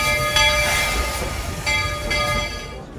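Walt Disney World Railroad train rolling through Magic Kingdom, a loud steady rumble of rail cars with rhythmic wheel clatter and bright tonal whistle-like overtones, close and continuous with no talking.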